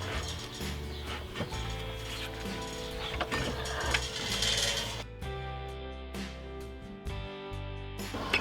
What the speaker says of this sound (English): This log here is about a little bit over 10 inches